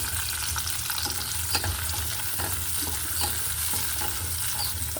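Garlic and then onion sautéing in a pan, with a steady close sizzle and occasional stirring scrapes throughout, no voices.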